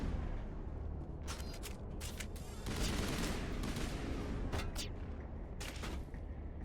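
Enemy gunfire in Mass Effect: Legendary Edition, heard as bursts of rapid shots and sharp cracks scattered over a steady background rumble, fairly quiet, with a few louder volleys.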